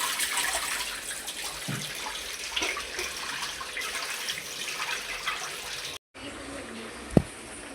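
Water runs and splashes as drumstick leaves are rinsed for dal in a home kitchen, a steady gush for several seconds that stops, followed by a brief clunk.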